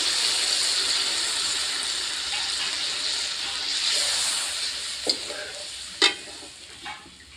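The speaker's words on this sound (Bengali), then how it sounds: "ডিমের সঙ্গে আরেকটু মশলাটা কষিয়ে নেবো হালকা 2-1 মিনিট।" Egg bhurji with masala sizzles steadily in a pan, a constant frying hiss with a few sharp stirring clinks and scrapes near the end, no voices.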